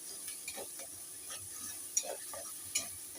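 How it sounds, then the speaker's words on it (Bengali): Garlic paste frying in a pan while stirred, a soft hiss under light, irregular spatula scrapes and two sharper taps, quiet and close, no voices. "দিয়ে দিচ্ছি কিছুটা রসুন বাটা, 1 চামচের মতন রসুন বাটা দিয়ে দিলাম। দিয়ে এবার এটা একটু নাড়তে থাকবো।"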